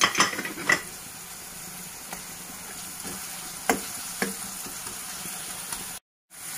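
Mint fries in a pan with a faint steady sizzle, broken by a few sharp clinks and scrapes of a spoon against the pan. Near and quiet, with no talk, and the clip ends in a brief silence.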